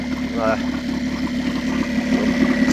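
A Mercury 9.9 outboard engine idles with its fuel disconnected so the carburettor runs dry, a steady mid-pitched drone held at an even level, with a brief higher whine early on.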